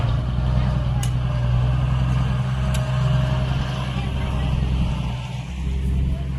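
A tractor engine drones steadily at close range while pushing dumped fill to level a plot for a house, a continuous low rumble with little change in pitch.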